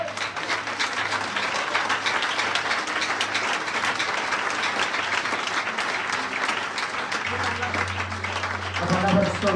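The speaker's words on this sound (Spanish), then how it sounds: "Dale un aplauso al Señor." A church congregation claps together in steady, sustained applause that fills the room, continuing unbroken for several seconds with a faint voice or tone underneath.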